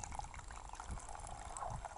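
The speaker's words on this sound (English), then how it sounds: "pour the water into it." Water poured into a cone-shaped coffee filter, a steady, soft splashing trickle that runs continuously, faint and close.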